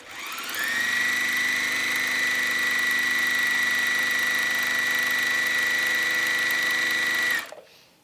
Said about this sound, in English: So I'm going to sew down one side.